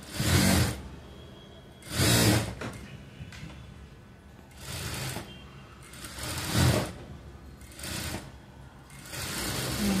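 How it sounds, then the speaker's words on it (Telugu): A sewing machine stitching pieces of a blouse's boat-neck potli design, in repeated short bursts of rapid mechanical whirring separated by brief quiet pauses, close and moderately loud. "ముక్కలు కట్ చేసి మొత్తం కుట్టేసేయండి"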